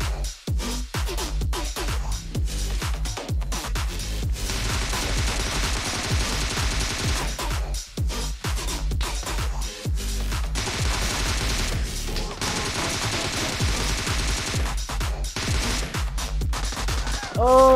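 Gunfire in the mobile game PUBG Mobile, including an M24 rifle: sharp shots and rapid bursts crack repeatedly over continuous game audio, loud and close throughout with brief gaps.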